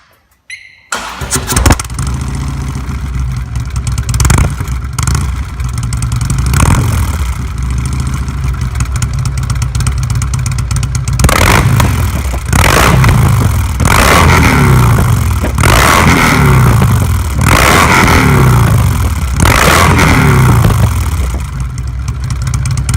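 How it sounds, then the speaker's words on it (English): A 2016 Harley-Davidson Road Glide fitted with Reinhard Extreme True Duals exhaust starts and idles, then gets blipped through a series of rhythmic throttle revs, loud and close with no talking. "Sound check for after the installation of the Reinhard Extreme"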